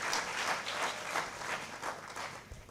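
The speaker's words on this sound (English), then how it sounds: "I just want you to clap hands for yourself for acknowledging yourself and making it here to this summit" Students at a climate innovation summit in Zimbabwe clap for themselves, a steady, fairly faint round of applause from a large audience that holds for a few seconds without pause.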